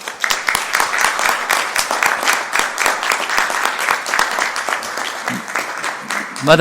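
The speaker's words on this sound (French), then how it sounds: "On peut l'applaudir, M. Dallène." Council members at a municipal council meeting give steady, fairly loud applause lasting several seconds, a brief voice breaking in near the end as the clapping fades.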